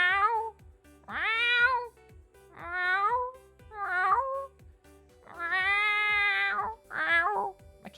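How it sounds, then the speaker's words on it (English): A house cat named Arata lets out a string of odd, drawn-out meows and warbling caterwauls, about six separate calls with short pauses between them, close by and fairly loud. "cat makes the weirdest noises."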